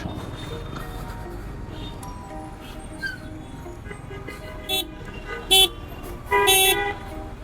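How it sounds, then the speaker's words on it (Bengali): Afternoon street traffic passes along a busy road, a continuous low engine rumble broken by several short, sharp horn toots, growing more frequent and insistent toward the end. "যতগুলো গাড়ি ক্রস করছে এটাই আমার জন্য বোনাস পয়েন্ট"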